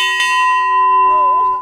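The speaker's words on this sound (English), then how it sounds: "We come out and ring the bell the number of times that's the time of the clock" A Glockenspiel bell at an Oktoberfest attraction rings once loudly and close, its pure tone sustaining and slowly decaying, with faint speech underneath toward the end.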